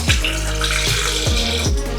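Water is poured over washed Joha Kalam rice in a bowl, making a loud, close, continuous splashing stream with a few distinct surges, and no voices are heard.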